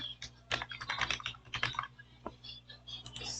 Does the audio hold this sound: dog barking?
no